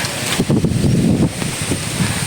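Gusty wind buffets the microphone with a rough, rumbling rush that swells and eases over a couple of seconds.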